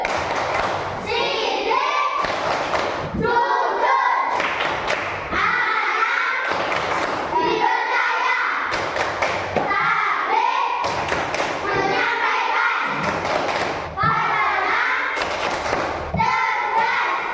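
A classroom of children claps in a rhythmic chant game, repeated bursts of hand claps and thumps in a steady beat, with children's voices chanting between the claps.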